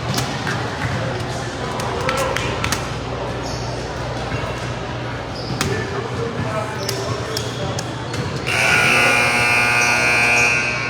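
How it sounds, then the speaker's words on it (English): A loud, harsh buzzer from a neighboring court blares near the end, cutting through a busy youth basketball tournament gym full of crowd noise, talk and bouncing balls. "Buzzers for another court."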